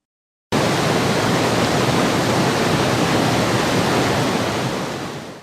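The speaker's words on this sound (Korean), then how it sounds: "갈석산에는 시원하게 쏟아져 내리는 폭포가 일품인 흑룡담이 있었다." Water pours down the falls into Heukryongdam pool on Galseok Mountain, a dense, constant roar that starts abruptly after a brief silence and holds loud and steady before fading slightly at the end.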